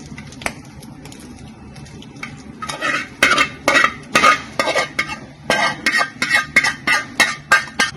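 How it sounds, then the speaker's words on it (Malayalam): Grated coconut being roasted in a pan, a loud, rhythmic scraping of a spatula stirring back and forth in regular strokes, quiet at first and then continuous for several seconds, close and alone. "അപ്പൊ നമുക്ക് കുറച്ച് തേങ്ങ വറക്കാം."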